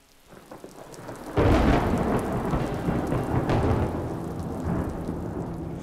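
Torrential thunderstorm rain bursts in after a quiet moment, with a loud thunderclap and then a heavy, continuous downpour roaring close by, alongside lower rolls of thunder and no speech.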